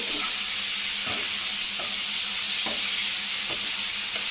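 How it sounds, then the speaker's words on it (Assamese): Jackfruit pieces fry in hot oil for a curry, with a dense, steady sizzle close by. Soft scrapes from stirring break through it about once a second. "এইখিনি অকণমান ফ্ৰাই কৰি লওঁ"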